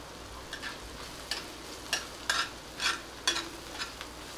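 A spoon scrapes and stirs pav bhaji masala, chilli powder and salt in a pan, giving a series of short irregular scraping strokes over a faint sizzle, close and fairly quiet.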